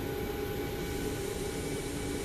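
Boeing 737 MAX jet engines starting up in MSFS 2024, a continuous loud turbine roar with a high whine over it, steady and close for a couple of seconds with no voices.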